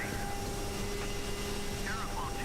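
Steady droning whine of a CRJ-700 jet engine in Microsoft Flight Simulator, a continuous even hum with faint tonal lines and brief warbling chirps layered over it.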